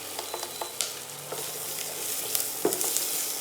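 Peppercorns sizzling in butter as the base for a roux in a chicken soup, a soft steady fizz with light taps and one sharper clack, fairly quiet and without speech.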